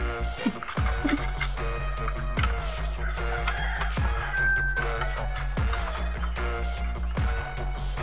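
Chickens cluck and call close by over a steady low background hum on a rural farm, with a rooster's crow rising briefly mid-way.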